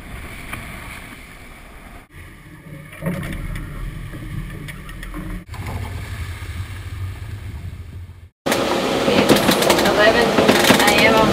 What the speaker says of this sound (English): Love to hear the water movement along the hull